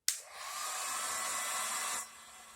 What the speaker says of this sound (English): hair dryer or a heat gun,